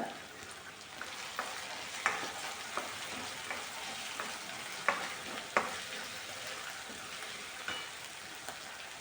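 Green chillies frying in a pan for Khandeshi vangyache bharit, a soft steady sizzle with scattered light taps and crackles, fairly faint and close, no talking.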